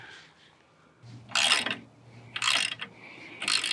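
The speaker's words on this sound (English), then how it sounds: "Just get this bolt started." A bolt is threaded by hand to mount a valve bracket for a Kioti CX2510 tractor third-function hydraulic kit. Three short bursts of metallic ratcheting and clicking come up close, separated by quiet pauses.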